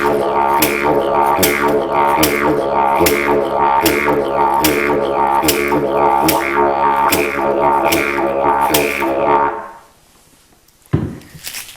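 Didgeridoo played in a steady pulsing rhythm counted in threes, its low droning tone punctuated by regular accented bursts, loud and close, then breaking off near the end.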